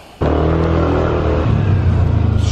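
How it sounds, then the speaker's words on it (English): A Yamaha Nmax scooter starts moving, its small engine jumping abruptly from quiet to a loud, close, steady hum that pulses slightly as it rides on, with no talk. "Okay, first ride on the Nmax."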